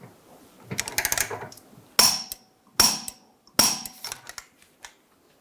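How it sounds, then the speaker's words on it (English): A torque wrench with a 19mm socket tightens the outer bolt of a rear lower control arm on a 2011-2014 Hyundai Sonata: a burst of rapid ratcheting clicks, then three sharp, loud metallic clacks spaced under a second apart. "Using a 19mm wrench and a 19mm socket, we're going to torque our outer bolt to 140 foot-pounds"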